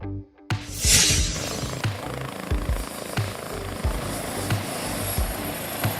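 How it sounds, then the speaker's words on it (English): An ambulance helicopter's rotor thumps steadily overhead, a loud continuous beating drone with no voices. "Ambulance helicopters are specialized helicopters used in the medical industry"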